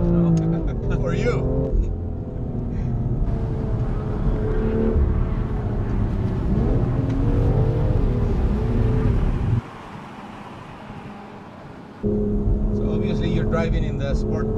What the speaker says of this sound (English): we take first corner and we do the first drift